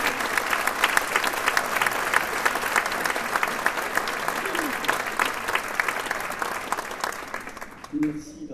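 Sustained audience applause at a benefit opera concert, dense clapping that fills the hall steadily for about eight seconds before a voice comes in near the end.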